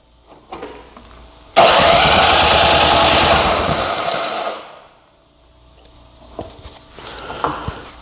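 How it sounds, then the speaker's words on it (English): A small engine cranks and catches after choke and primer are set, bursting into a loud, steady roar for about three seconds before dying back, followed by quieter mechanical clicks and handling sounds. "starting the engine. Choke, yeah. Primer"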